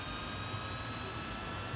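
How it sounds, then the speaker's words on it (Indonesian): A Lotus Evija electric hypercar in the racing game Real Racing 3 gives off a steady, airy whooshing whine that holds at an even level throughout, with no voices over it. "Ini suara mobil listrik yang baru."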